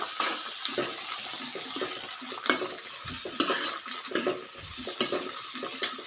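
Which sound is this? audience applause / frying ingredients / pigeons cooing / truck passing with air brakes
frying ingredients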